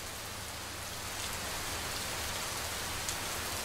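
Heavy monsoon rain pouring down in Bengaluru, a dense, steady hiss of drops on surfaces with a low rumble underneath, continuous and even throughout with no distinct thunderclap.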